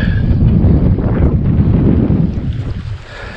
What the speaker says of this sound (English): Wind blowing like crazy, folks